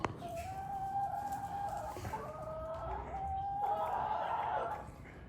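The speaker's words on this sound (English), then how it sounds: "Look at this cockerel." A cockerel crows in drawn-out, wavering calls mixed with throaty clucking, fairly close and steady over a few seconds.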